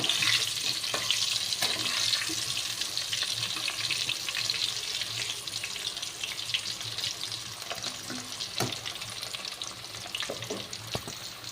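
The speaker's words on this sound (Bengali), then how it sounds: "আমি প্রথমে আলুগুলোকে ভেজে নেব।" Potato pieces fry in a pan over a high gas flame, a continuous close sizzling hiss with occasional clinks and stirring scrapes, steady throughout and slightly easing toward the end.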